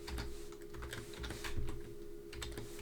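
Rapid, irregular clicking of computer keys as code is typed for a web app, close to the microphone and steady throughout, with a faint constant hum underneath.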